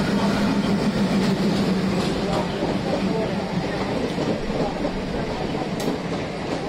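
ALCO WDM3 diesel locomotive hauling the Ernakulam passenger train, a loud steady rumble and roar of engine and rolling stock close by, continuous throughout with faint rail clatter.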